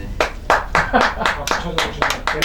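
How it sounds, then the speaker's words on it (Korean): Audience clapping at a Methodist missionary leadership conference, a crisp run of roughly even claps from a small, close group, fairly loud with no voices over it. "박수."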